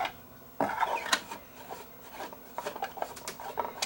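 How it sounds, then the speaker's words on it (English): Screws being driven out of a Pecron E1500LFP LFP power station casing during a teardown, with a sudden onset of whirring, rasping driver and plastic-rubbing noise followed by several shorter bursts of scraping and clicking, close and fairly quiet. "And we'll just start zipping out screws."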